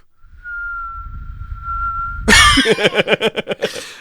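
A voice mimics a cartoon bomb drop, a thin steady falling whistle that ends in a loud burst and a string of rhythmic puffing explosion noises.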